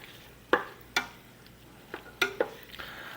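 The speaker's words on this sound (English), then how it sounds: "I'm going to stir that around a little bit" A spoon stirring kidney beans in a pot of chicken spinach soup gives five or six sharp scraping clinks against the pot, spaced irregularly over a quiet kitchen background.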